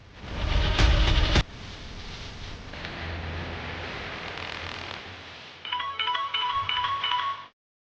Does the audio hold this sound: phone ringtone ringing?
yes